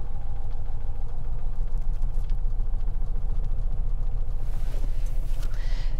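A classic 1960s Ford Anglia 105e engine idles with a steady, slightly uneven low rumble, close and continuous, sounding like it could use more choke.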